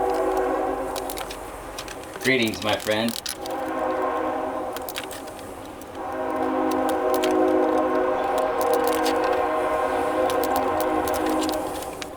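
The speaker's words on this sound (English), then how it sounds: "Train's here." A train passes near a backyard shed with a rumbling, rhythmic clatter of wagons and a brief wavering horn blast early on, a voice speaking briefly over the steady rolling noise.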